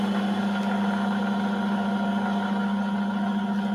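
A metal lathe runs with its half nuts engaged, giving a steady, close mechanical hum with a strong low drone and a constant whir, unchanging throughout with no talk.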